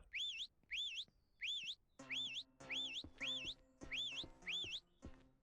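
Whistling in the Ranch Simulator video game: about nine short, bright sweeping whistle calls in a steady rhythm, loud and close, with a low rumbling game background entering under the later ones.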